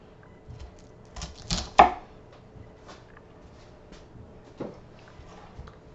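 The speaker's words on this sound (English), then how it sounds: "just create some slices of cabbage like this" A knife cuts through a cored head of cabbage into wedge slices, giving a couple of crisp chopping thuds clustered close together, then a single fainter cut after a pause.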